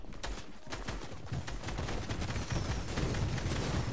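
Rapid, dense gunfire in the video game Fortnite, a continuous fusillade of overlapping shots that stays loud and unbroken throughout.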